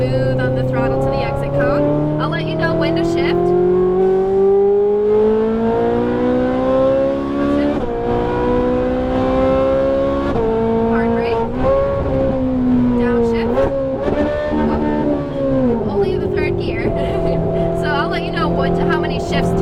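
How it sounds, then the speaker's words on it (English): A Ferrari 458 Italia engine accelerating hard on a track, its loud, close roar climbing steadily in pitch, then dropping and climbing again through several quick gear shifts. "then you can start accelerating smooth on the throttle to the exit cone"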